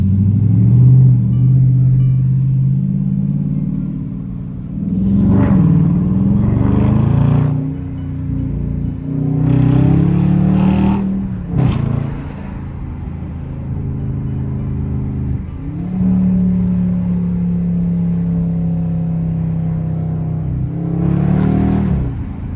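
A Dodge Charger R/T drives on the road, its engine a steady low rumble that rises and falls as it accelerates, with brief louder surges and no talk over it.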